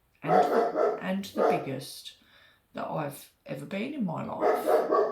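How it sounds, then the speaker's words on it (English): A dog barks at home in a few short bursts between and under a man's close-up speech, the barks blending into his talking rather than standing clearly apart. "That's my dog barking."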